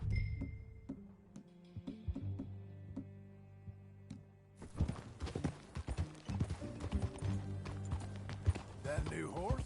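Horse hooves clip-clop steadily in Red Dead Redemption 2, at first sparse and light, then denser and louder as the ride picks up, with an occasional neigh and people talking over it.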